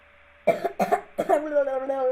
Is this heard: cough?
yes